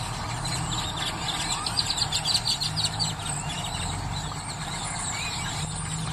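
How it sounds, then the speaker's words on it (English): Birds chirp through the night, with bright, rapid repeated tweets in a busy cluster over a steady low background hum, continuing without pause. "But you notice all these birds like this all night long."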